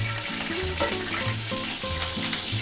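Precooked shrimp fry in a hot pan of oil, giving a steady, busy sizzle with rhythmic crackling pulses, close and moderately quiet, with no voices.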